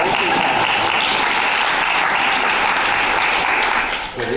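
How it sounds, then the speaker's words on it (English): A room of attendees at a board of education meeting breaks into a dense, steady round of applause, loud and close, holding for about four seconds before fading out. "Oh, round of applause for prevention."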